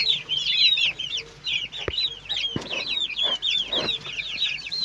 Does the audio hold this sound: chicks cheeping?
yes